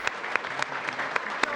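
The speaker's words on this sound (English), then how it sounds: "That was the applause as UCF received their stamp of approval from the Florida Board of Governors this week" Applause in a Florida Board of Governors meeting room as UCF wins approval, a brief burst of many hands clapping with sharp individual claps standing out.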